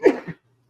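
A single short sneeze close by, sharp and loud, followed by silence.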